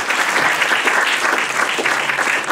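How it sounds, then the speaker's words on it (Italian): An audience at an interview and music presentation claps in sustained applause, dense and even throughout the short span, with no talk over it. "Facciamo un applauso"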